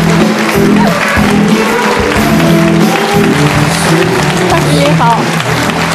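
A studio audience claps at a talk show as the writer Li Ao is welcomed on stage. A dense wash of clapping runs the whole time, and a host speaks over it.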